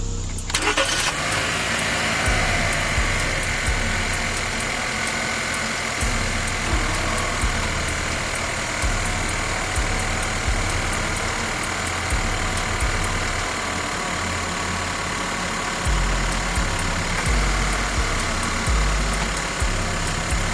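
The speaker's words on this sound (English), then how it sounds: "So I'm about to start the vehicle." A vehicle engine cranks and starts during a battery and charging test with a TOPDON TB6000Pro tester, then settles into a loud, steady idle that runs throughout with no speech.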